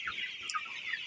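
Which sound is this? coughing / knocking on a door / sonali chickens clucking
sonali chickens clucking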